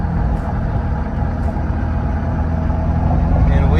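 Pickup truck engine running with tow haul mode and exhaust brake engaged, a steady low rumble close by that holds constant throughout with no voices.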